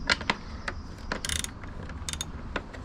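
Ratchet loosening the nuts on the mirror mount of a 2020 Yamaha R1 during a fairing swap, giving several short bursts of quick clicking close by, with pauses between them and no talk.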